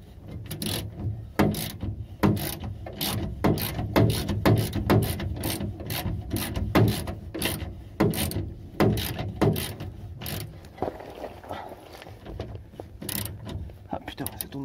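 Ratchet wrench clicking steadily as it undoes a size 11 screw beneath the body of a Citroën Ami 8 under restoration, a dense run of sharp ratcheting clicks close up with no talk over it.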